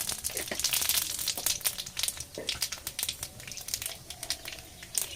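Five-spice seeds (panch phoron) sizzling in hot mustard oil give a steady crackle with scattered sharp pops and a soft frying hiss underneath, close up and fairly quiet.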